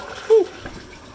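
Water pours into a 240-gallon aquarium, a soft steady rushing splash with a brief whistle-like vocal whoop partway through.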